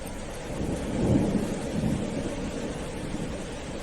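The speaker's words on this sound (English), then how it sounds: "that torrential rain" Heavy torrential rain pours in a steady broadband wash while a low rumble of thunder swells near the middle and then fades, with no voices over the downpour.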